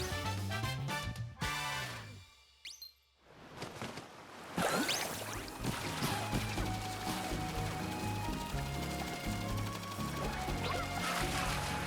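In Super Mario Odyssey, a bird gives squawky, quacking game calls over busy game music, with crashes, whooshes and thwacks, and a brief near-silent dip partway through.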